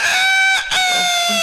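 A voice imitates a rooster crowing in a comedy scene: one loud, close, drawn-out crow with a brief break partway through, heard alone with no other talk.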